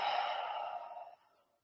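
A single deep, audible exhalation during hatha yoga ujjayi breathing practice, a breathy hiss that starts strong and fades out over about a second, close up and alone.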